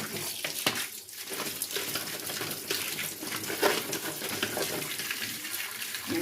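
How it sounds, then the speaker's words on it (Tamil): Amla gooseberries are washed under running tap water, a steady close splashing rush with small knocks and shifts as the fruit is rinsed by hand. "நல்லா இதே மாதிரி தண்ணி விட்டு கொஞ்சம் நல்லா கழுவிடுங்க"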